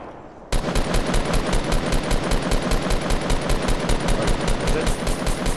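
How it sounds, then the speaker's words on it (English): Rapid automatic weapon fire from a grenade launcher in a Fortnite Battle Royale squad match, loud and continuous, a steady rattling burst of evenly spaced shots beginning after a brief quiet moment and running to the end. "Grenade launcher."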